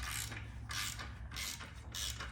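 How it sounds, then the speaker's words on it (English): A ratchet works on the 11 mm exhaust bolts of a 2022 Honda Grom during a Yoshimura RS9T install, giving close, steady bursts of rapid clicking in a rhythmic back-and-forth pattern with no talking. "let's go ahead and loosen up some bolts here"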